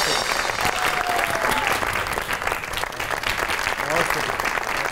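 An audience claps loudly and continuously for Naeem Tahir, a dense wash of hands that lasts the whole stretch, with faint voices mixed in.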